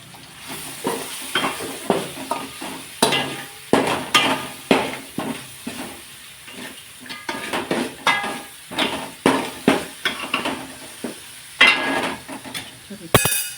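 Cluster bean curry with chilli powder and green chillies being stirred in a pan: repeated close, rhythmic spatula scrapes and clacks against the metal over a light sizzle of cooking.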